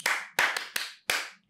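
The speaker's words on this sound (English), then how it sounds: "Clap for yourselves." Four sharp, separate claps, close and fairly loud, each ringing briefly before the next, with a small extra tap between the second and third.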